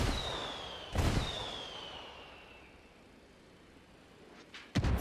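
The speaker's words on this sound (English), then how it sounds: "I called the rebels for some indirect fire." Called-in indirect fire in Ghost Recon Wildlands: a thin descending whistle cuts across a hissy background, broken by a sharp blast, then a second close, loud explosion near the end.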